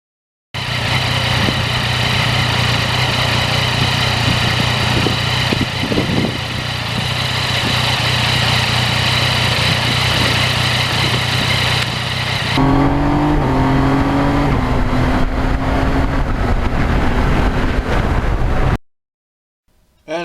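A 2020 Yamaha MT-09 motorcycle being ridden, its engine droning steadily and close for most of the run, rising in pitch as it revs up near the end before cutting off abruptly.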